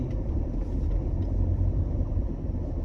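A car's engine drones steadily and close during an Indonesian driving lesson in Jakarta, a low, even rumble as the learner presses the accelerator.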